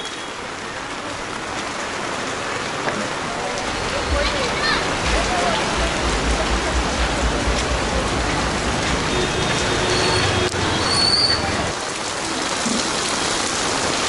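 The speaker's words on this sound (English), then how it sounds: "this rain is really something" Heavy monsoon rain pours steadily onto a street in Dharavi, Mumbai, a dense, continuous hiss of drops on hard surfaces with a low rumble beneath, loud and unbroken throughout.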